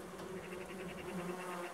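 A dense swarm of wasps gathered around a nest near village beehives makes a faint, steady droning buzz with a constant pitch, heard alone without talk.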